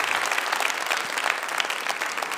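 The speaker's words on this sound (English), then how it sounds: "Another round of applause for Pamela Sharp." Congregation applause at a Baptist church worship service, a dense, continuous burst of many hands clapping together, fairly loud and close, with no speech over it.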